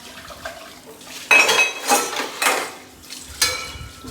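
Steel dishes and utensils are scrubbed and rinsed with water, sharp metallic clinks and clanks arriving in a few loud bursts over a faint splashing background, with no talking.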